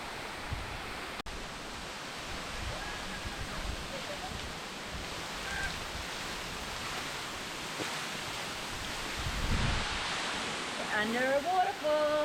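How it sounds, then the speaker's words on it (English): A waterfall roars as broadband, steady rushing water heard up close while swimming beneath it in Northern New South Wales, continuous and fairly loud throughout, with a brief voice near the end. "Under a waterfall."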